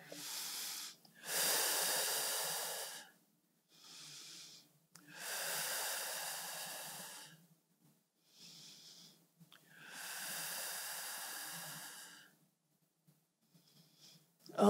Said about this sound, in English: Big deep breaths here.